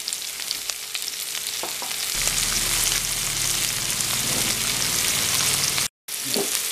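Vegetables and red chili frying in a pan for noodles, a continuous close hiss that thickens partway through, briefly cutting out near the end before resuming, with no voices.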